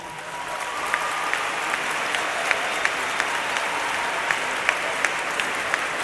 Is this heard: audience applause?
yes